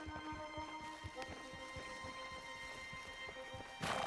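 Horse hooves clip-clop in a steady, brisk rhythm under a rider in the Red Dead Redemption 2 video game, close and moderately loud with a faint musical hum behind.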